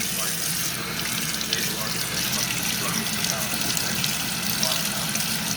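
A kitchen tap runs steadily onto a freshly peeled hard-boiled egg, a close, continuous splashing gush with small spatters and no pauses.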